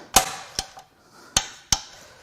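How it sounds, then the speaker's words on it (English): Metal hammer blows strike a part from a Ford Powerstroke diesel engine during a teardown; four sharp, ringing impacts land at uneven intervals, loud and close, with no talking. "We're using my new hammer, which you guys sent me."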